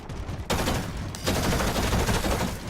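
Loud, dense gunfire in the Warhammer 40,000 shooter Eternal Crusade, a heavy continuous barrage with two sharper onsets partway through and no talk over it.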